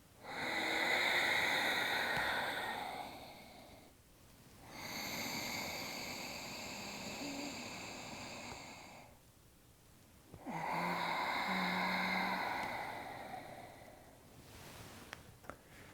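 A person breathes slowly and deeply, with a long inhale followed by a long exhale, repeated in three close, fairly loud cycles with brief quiet gaps between them.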